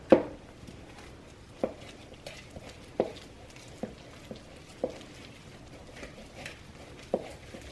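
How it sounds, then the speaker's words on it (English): Spoon working no-bake cookie dough with sugar-free syrup in a bowl, soft thuds and scrapes recurring roughly every second or so, close and moderately quiet. "then you're just gonna mix it up really well"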